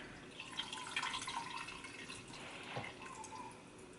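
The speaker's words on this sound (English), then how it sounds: "just allow the water to drain out for about 5 minutes" Water drips and trickles out of salted daikon and other vegetables sitting in a kitchen strainer, faint irregular splashes with small clatters, quiet and close, no voices.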